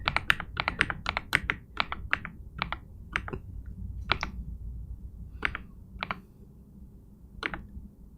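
Computer keyboard typing in the same room as a Blender modeling stream, with irregular bursts of crisp clicks and key taps running throughout, moderately close and steady under a quiet background.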